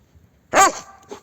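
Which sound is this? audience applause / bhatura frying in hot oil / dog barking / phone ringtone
dog barking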